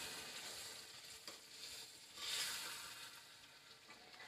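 Tomatoes sizzle and fry in a pan as they are mashed and broken up, a steady close hiss with soft scraping and stirring and a brief louder swell partway through.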